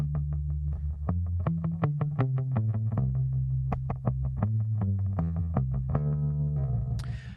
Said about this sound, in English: Put flat wounds on your bass and use a bit of tremolo, and you get this really old school kind of sound